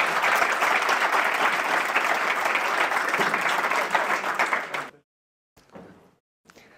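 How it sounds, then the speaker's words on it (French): Audience applause fills a conference hall, dense and steady for about five seconds before cutting off abruptly, followed by a couple of brief scattered claps. "Vous avez le droit d'applaudir quand même."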